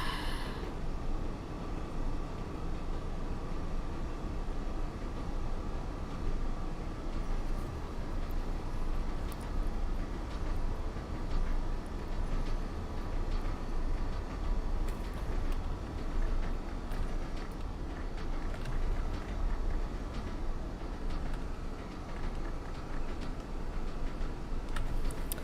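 Steady rumbling drone of a vintage Class 101 diesel multiple unit running in top gear on a Northern stopping service, continuous wheel and engine noise with faint ticking rail clicks throughout, no talk.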